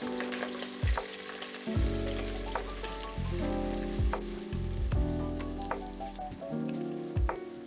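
Bay leaves, cardamom, cinnamon, clove and sliced onion hit hot oil for morog polao, a loud, steady close-up sizzle broken by repeated scraping stirs, with no talking.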